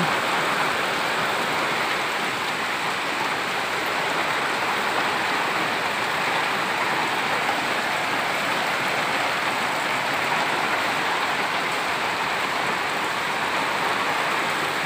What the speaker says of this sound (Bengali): বৃষ্টি হচ্ছে, তুমুল বৃষ্টি।